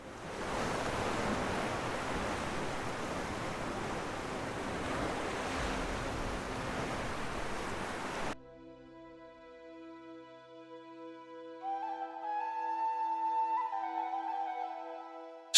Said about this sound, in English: the endless ocean surrounding them